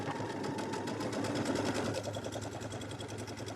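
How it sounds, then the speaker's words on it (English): A sewing machine fitted with twin needles stitching a row runs at a steady, fast rhythmic clatter, close and continuous with a slight change in pace partway through. "first I'm just going to do a row of stitches"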